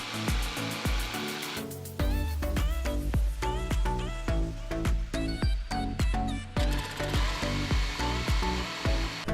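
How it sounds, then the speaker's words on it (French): Rapid buzzing jigsaw cutting through a composite deck board in repeated short strokes, loud and close, with brief pauses between bursts. "Avec une scie à découper, vous pouvez parfaitement couper la planche à la bonne mesure"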